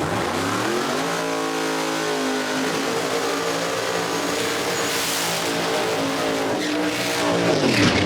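Drag racing cars rev loud and steady at the start line of a no-prep event at US 131 Motorsports Park, engines climbing in pitch and holding a continuous roar without pause.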